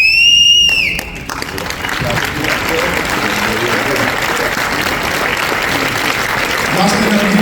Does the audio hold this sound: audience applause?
yes